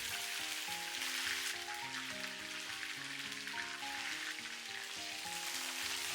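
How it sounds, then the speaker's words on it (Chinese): Green beans hit hot oil in a wok and fry with a steady, even sizzle that carries through the whole stretch, with background music playing underneath. "油微熱就把豆角全部放進去"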